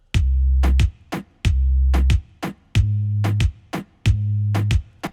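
A reggaeton drum pattern for the second part of a chorus, built in Studio One 4 with a chosen kick and snare: deep, sustained booming kicks alternate with sharp snare hits in a repeating dembow rhythm, loud and dry with no voices.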